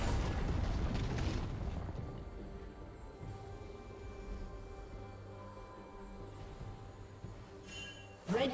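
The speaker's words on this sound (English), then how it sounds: "Red team's turret has been destroyed." A turret collapses in a League of Legends match, an opening crash and rumble of debris fading into a low mechanical hum and game ambience, with another sharp burst at the very end.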